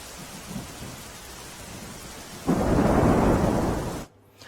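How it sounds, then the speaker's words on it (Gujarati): Steady heavy rain pours over rural Deesa taluka, Banaskantha, Gujarat, then a deep rumble of thunder swells loudly over it for a couple of seconds before cutting off. "ડીસા તાલુકાના ગ્રામ્ય વિસ્તારોમાં અનરાધાર વરસાદ વરસ્યો"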